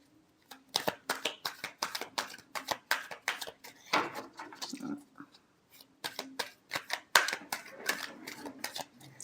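Tarot cards shuffled by hand in a run of quick, crisp riffling bursts with brief pauses between them, close and moderately loud with no voice over them.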